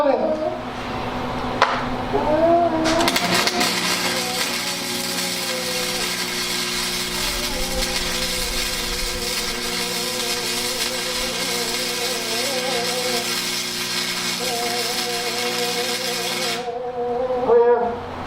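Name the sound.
flux core welding on welding cart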